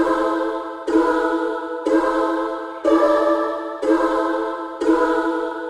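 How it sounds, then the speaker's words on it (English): A dark, sustained choir pad repeats roughly every second, six swelling chords washed in heavy reverb, with no one talking over it. "This is how the choir sounds with all the effects."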